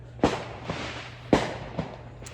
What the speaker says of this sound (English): You hear those fireworks.